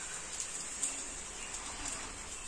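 Heavy rain falls in a steady, dense wash, with scattered drops pattering on nearby surfaces.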